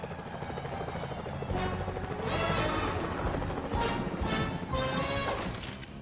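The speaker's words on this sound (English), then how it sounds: "Those security choppers are bad news." Security helicopters in the video game Sly Cooper: Thieves in Time drone loudly and steadily throughout, with dense game action, music and crash-like hits layered over the constant rotor noise.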